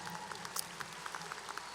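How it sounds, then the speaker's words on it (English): Audience at a college graduation ceremony claps in a thin, distant patter, a few sharper hand claps standing out over a soft steady wash, fairly faint throughout. "Would you give him a round of applause?"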